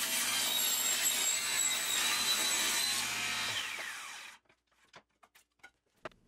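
A table saw rips through wood for a chessboard with a sustained loud whine, then the blade cuts out and leaves a few faint knocks and clicks nearby.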